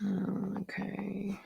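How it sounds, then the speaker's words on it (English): A dog growls with a low, steady rumble close by, breaking off briefly halfway through before resuming. A person says a single short word. "Oh, that's just my dog"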